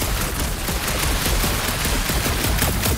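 Dense, continuous gunfire pours onto a resistance ship during a battle in the Guardians of the Galaxy video game. The shots come loud and rapid with no pause across the whole stretch, and no voices are heard.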